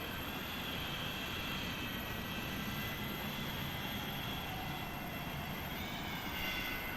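A steady, faint jet engine drone from an airliner being pushed back in a flight simulator game hums continuously, a broad whooshing roar with a high whine on top, unchanging and distant.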